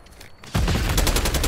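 Gunfire in Call of Duty Black Ops 6 erupts after a brief quiet moment, a loud rapid burst of shots that continues to the end.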